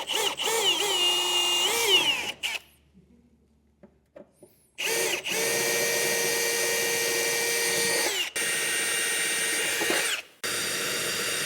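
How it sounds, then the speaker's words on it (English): Power drill boring larger holes through the steel bed of a 2024 Ford F-250 Super Duty, loud whining bursts that rise and dip as the bit bites, several long runs separated by short pauses, close to the listener. "I am going to work my way up to it with some smaller drill bits."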